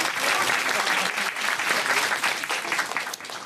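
Sustained audience applause fills a talk concert hall for young adults, dense and steady clapping throughout with a slight dip near the end.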